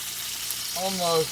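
Steaks searing in hot beef tallow give a steady, dense sizzle and crackle that runs throughout, while a voice speaks briefly over the frying near the end.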